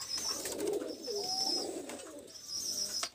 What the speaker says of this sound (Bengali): এই সেই বান্দানো চটের কবুতর